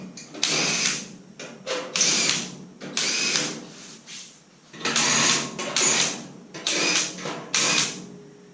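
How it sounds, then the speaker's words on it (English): A power drill whirs in repeated bursts of a second or two, stopping and starting as it drills out rivets in a 1928–1929 Ford Model A firewall, close and loud with short pauses between. "You're going to drill out these rivets."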